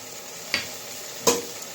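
Two quick scrapes of a spoon stir ground cumin, turmeric and Kashmiri chili in a pan for kalibaush fish curry, set against a low, steady sizzle, close and without talk.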